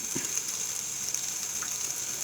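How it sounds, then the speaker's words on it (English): Water running and gushing onto a fidget spinner being cleaned with dish soap, a steady hissing splash with no voices. "let me get a little bit of water in there and start spinning it"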